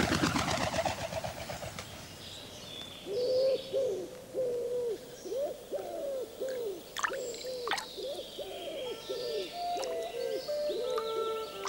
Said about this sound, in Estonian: Tavaliselt annab kaelustuvi aga endast inimesele teada vaid kumedate kudrutustega, mis vaiksetel suveõhtutel kusagilt kaugelt laante sügavusest kostavad.